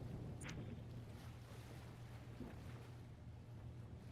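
Water lapping against a surface, previewed as an ambient sound effect for a Halo 3 ODST horror mod: a steady low sloshing wash, continuous and moderately quiet, with faint splashy detail and no voices.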